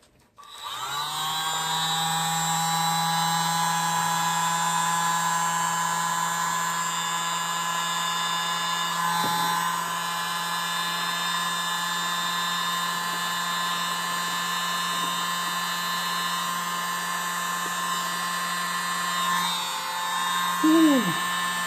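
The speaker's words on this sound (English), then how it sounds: "I'm going to use my little mini blower" A small handheld mini blower whirs steadily over a paint pour made with Floetrol, a thin, high electric whine that runs almost unbroken, with a brief dip partway through and a small disturbance near the end.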